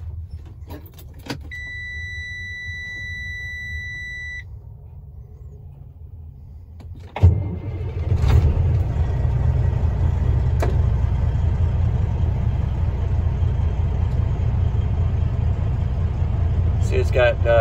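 A 2009 Freightliner Columbia triaxle truck with a 14 liter Detroit engine cranks and fires after a quiet stretch with a brief electronic tone, then settles into a loud, steady, rumbling diesel idle close by.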